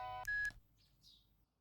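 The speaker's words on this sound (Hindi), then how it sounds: "फोन बज रहा है।" A telephone gives a short burst of electronic ringing and dialing tones lasting about half a second, then fades into faint hiss and a few soft high chirps.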